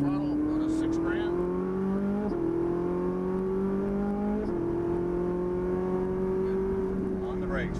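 A Ferrari 458 Italia's engine revs under throttle on a race track, a loud continuous whine climbing in pitch through steady gear-like steps, heard from inside the car.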